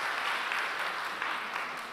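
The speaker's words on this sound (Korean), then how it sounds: "여기 박수로." A church congregation claps during a Sunday service, a brief, fairly quiet burst of even applause from the room.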